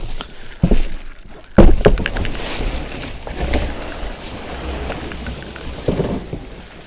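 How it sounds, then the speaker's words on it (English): A Contractor Special carpet cleaning machine is tipped onto its wheeled side and pulled from its cardboard box, with heavy thuds, rustling and scraping bursts up close and no speech. "The best way to take this out is just lay it on the side where the wheels are and just pull it out."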